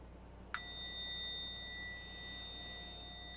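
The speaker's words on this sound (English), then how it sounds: "And now, let's have a bell." A single meditation bell struck once, ringing out clear with a long, sustained shimmering tone that slowly fades, alone with no voices.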